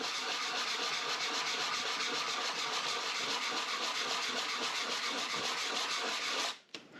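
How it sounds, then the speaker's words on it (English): A steady, abrasive rasp of sanding runs for about six and a half seconds as a burr is taken off a wooden ring inlay, then stops abruptly. "So now we're going to do a quick sanding right here. Just take off a burr."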